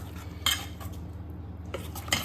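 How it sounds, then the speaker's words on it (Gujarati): A spoon stirs soaked semolina (rava) batter for dhokla in a metal bowl, giving a few distinct scraping clinks against the sides, spaced irregularly, close and fairly quiet over a low steady background hum. "સરસ આપણો રવો પલળી ગયો છે। હવે મિક્સ કરી લઈશું એકવાર।"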